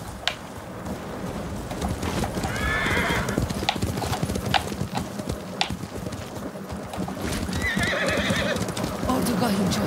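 A horse gallops with steady clip-clop hoofbeats and whinnies twice in Ghost of Tsushima, the hooves running continuously beneath occasional bright neighs, with a rainy, stormy ambience.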